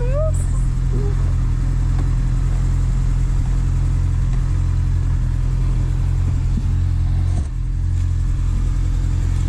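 A 2010 Honda Hornet motorcycle with 17,000 km idles close by, a steady low engine rumble that holds throughout with only a brief dip, under some talk.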